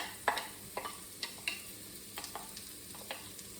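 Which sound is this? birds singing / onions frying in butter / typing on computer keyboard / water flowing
onions frying in butter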